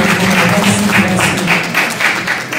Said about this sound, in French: Est-ce qu'on peut encore applaudir cette leçon